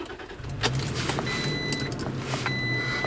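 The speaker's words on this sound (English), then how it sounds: "Then we'll turn it back on and see what we got." Third-generation Toyota Tacoma starting back up, a steady low idle hum settling in with a few light clicks and faint chimes from the dash over the engine.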